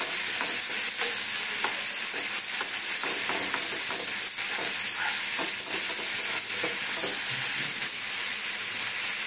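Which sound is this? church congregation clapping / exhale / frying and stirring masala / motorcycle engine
frying and stirring masala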